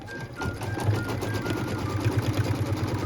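A sewing machine stitches an apple-shaped outline on a fabric trivet, its motor whirring in a steady, fast rhythmic hum close by with no break.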